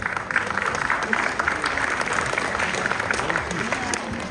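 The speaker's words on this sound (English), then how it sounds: "So parents, tonight's applause is also for you too." Audience applause at an annual community event, a dense, steady roar of many hands clapping that holds at an even loudness from start to finish.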